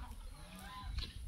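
A chicken clucks faintly, a couple of short soft calls heard in a quiet outdoor farmyard setting near a vegetable garden, with low background rumble.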